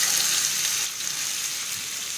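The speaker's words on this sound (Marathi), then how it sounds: "आपल्याला कारेल्याच्या फोडी आहेत ह्या तेलामध्ये छान रंग बदलेपर्यंत परतून घ्यायच्या" Sliced bitter gourd fries in oil with mustard seeds and cumin over a medium flame, giving a steady, hissing sizzle that stays fairly close for a couple of seconds with no talk.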